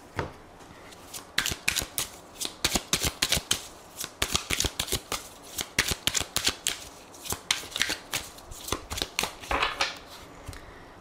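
Tarot cards shuffled by hand in bursts of sharp, papery slaps and riffles, close and loud, pausing briefly between runs with no speech.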